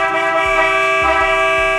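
Horn on a Toyota Hilux GRS, sounded through a Greddy steering wheel's button on a Zestek hub: a steady, loud, close honk held through the clip with a few low thumps beneath.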